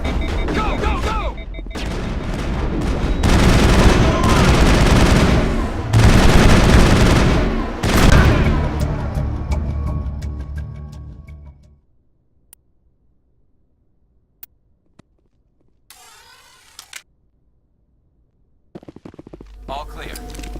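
Rapid, loud bursts of gunfire in the Mass Effect video game, overlapping automatic shots for about ten seconds that trail off into near silence, followed by a few isolated clicks and a faint return of ambient sound.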